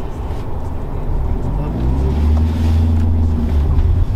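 Hyundai Genesis engine heard from inside the cabin, a steady low rumble and drone holding at an even level throughout, with people talking quietly over it.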